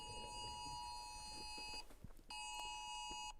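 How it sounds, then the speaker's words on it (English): A phone alarm screeches in a loud, steady, high-pitched multi-tone beep, cutting out briefly partway through before resuming, over faint background noise. "And now my phone is screeching."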